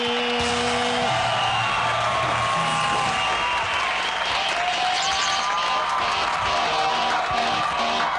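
A studio audience at a television variety show claps and cheers loudly and continuously for several seconds as a singer is welcomed to perform, with a brief musical note at the start.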